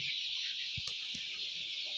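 Hens at a poultry farm housing 3,500 birds give a few faint, scattered clucks beneath a steady background rush.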